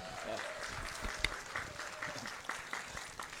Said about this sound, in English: let's give a round of applause to that